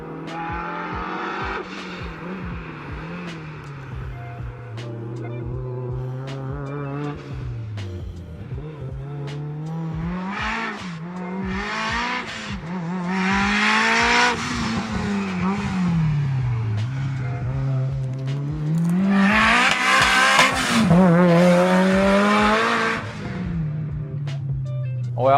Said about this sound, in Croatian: Čak čujete i diferencijal kako zuji dok se vozite